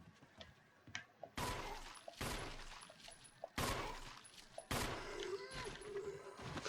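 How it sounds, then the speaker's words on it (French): Gunfire in the Resident Evil video game: several loud, separate blasts, each followed by a ringing decay, with small game noises in the gaps between shots. "Un headshot avec ce gun là"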